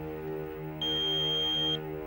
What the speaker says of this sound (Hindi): प्लीज बीप के बाद अपना मैसेज छोड़ दें